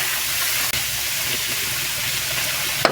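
Bamboo shoots (labong) dropped into a hot pan give a steady, loud sizzling hiss that holds evenly throughout, with a faint clink near the end.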